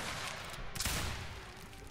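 Musket volleys crackle in a Roblox Waterloo battle between Imperial Garde and Irish Legion, a continuous rattle of distant shots with one heavier burst near the middle, no talking.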